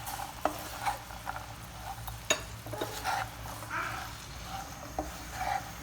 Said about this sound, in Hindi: दो से 3 मिनट तक हम चनों को इन मसालों में पकाएंगे